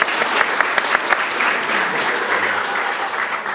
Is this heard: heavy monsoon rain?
no